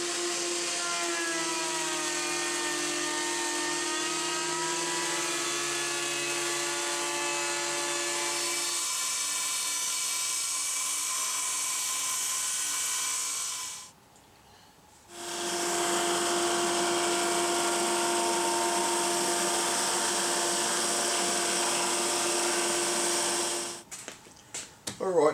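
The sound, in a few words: drum sander levelling and thicknessing guitar body timber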